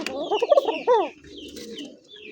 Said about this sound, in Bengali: এবার দেখেন ডিমে বসা মাদি ভাই ডাকে